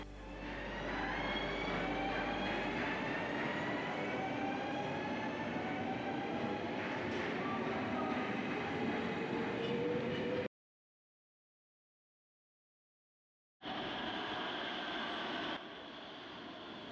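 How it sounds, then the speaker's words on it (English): A Rotterdam RET metro train approaches on line B towards Hoek van Holland Haven, a loud steady rumble with rising whine that cuts off abruptly, then resumes briefly. "As our metro approaches"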